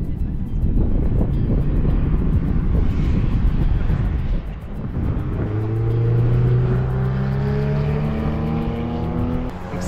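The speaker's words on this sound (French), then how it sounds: "Il y a plein de super caisses qui tournent." Sports cars, including a Porsche 911 GT3, lap the Trappes race circuit with a loud, continuous engine roar. In the second half, one engine note climbs steadily as the car accelerates nearby.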